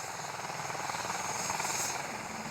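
A rescue helicopter at an outdoor rescue scene, its rotor and engine producing a steady, loud, continuous thrum and whine that stays constant throughout with no talking heard.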